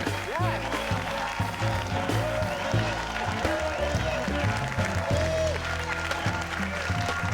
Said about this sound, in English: please give an enthusiastic round of applause for Reza Aslan